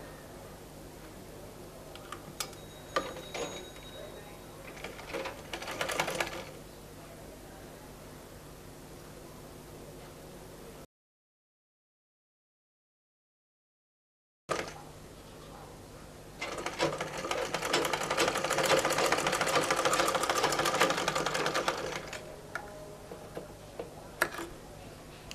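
A sewing machine stitches thin piping cord onto the neckline of a garment. It gives bursts of close mechanical ticking, then a silent gap, then a longer, louder run of stitching. No one speaks.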